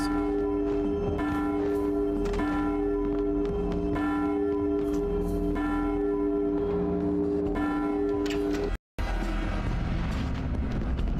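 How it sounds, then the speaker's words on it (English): A bell in the video game Deadhead Fred rings out repeatedly in a slow, steady rhythm, each resonant clang swelling and decaying over sustained game music, then cutting off abruptly near the end. "Sound the bell."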